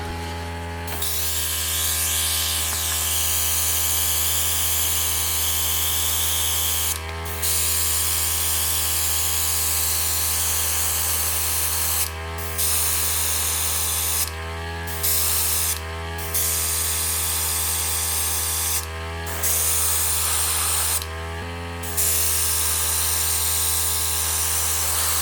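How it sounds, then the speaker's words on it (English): An aerosol can sprays paint onto masked Black Series clone trooper action figures in long, loud hissing bursts separated by brief pauses, close to the microphone, with a steady hum underneath. "Now we're going to go ahead and spray them."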